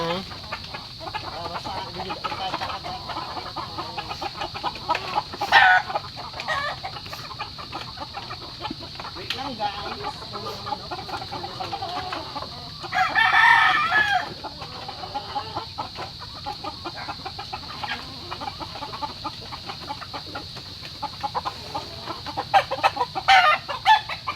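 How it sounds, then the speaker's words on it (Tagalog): Chickens clucking on and off throughout, with a steady background hum and occasional louder bursts, including a brief squawk midway. "Magpapakain po ako ng manok guys."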